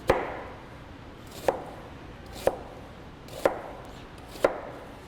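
Knife chopping onions on a cutting board in a kitchen, with five sharp, evenly spaced chops about a second apart, close and distinct over quiet room tone with no talk.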